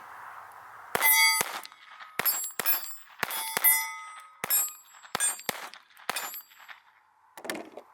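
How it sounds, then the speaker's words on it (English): Ruger SR22 pistol firing a magazine of Golden Bullet rounds at steel targets, a string of sharp shots each followed by a ringing metallic clang, spaced irregularly over several seconds. "shooting a mag of golden bolt through the SR22"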